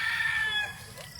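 Rooster crowing among chickens at a poultry farm, a loud drawn-out crow fading into clucking, close by, filling the short moment.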